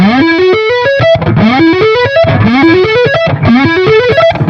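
Distorted electric guitar runs fluid ascending legato hammer-on phrases, the same quick rising lick repeated four times, loud and close.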